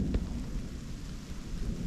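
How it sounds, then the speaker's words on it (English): Thunderstorm over the Arctic wilderness along the Kungsleden trail in Sweden. A sharp thunder crack comes near the start, then steady rain hiss and low rumbling continue throughout, with no voices. "waiting out that absolute beast of a lightning storm"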